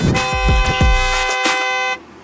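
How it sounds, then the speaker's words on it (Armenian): A loud car horn blares in several sharp bursts in Armenian traffic, close and insistent, then cuts off abruptly into quiet. "ինչու ենք ախր այսքան շատ սիգնալ տալիս"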